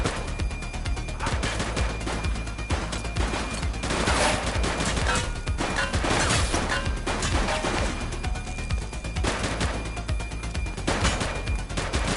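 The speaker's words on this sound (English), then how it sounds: "He's shooting!" Sustained gunfire in the police video game The Precinct, rapid bursts and volleys of shots running almost without pause, loud and close.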